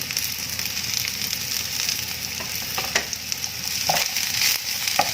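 Chili and galangal frying in hot oil with bay leaves and lime leaves, a steady loud sizzle and crackle, stirred now and then with a few light utensil knocks.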